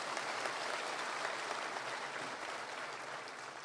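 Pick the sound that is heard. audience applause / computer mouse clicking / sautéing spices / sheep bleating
audience applause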